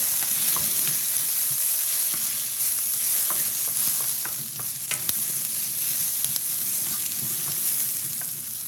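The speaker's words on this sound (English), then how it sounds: "And I'm just kind of getting those onions and peppers a little bit soft, a little browned out." Onions, peppers and mushrooms sizzle steadily in a pan, a continuous frying hiss with scattered scrapes and clicks of stirring throughout, close and fairly loud, no voices.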